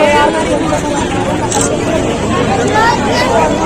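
A crowd gathered at a street crossroads in Gorakhpur: dense, continuous babble of many voices talking at once, close and loud, with no single voice standing out and a steady outdoor noise underneath.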